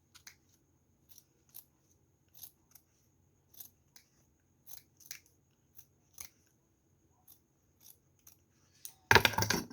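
Scissors snipping through material for a handmade jewelry box, a series of crisp close cuts spaced across the quiet, ending in a louder rustling burst.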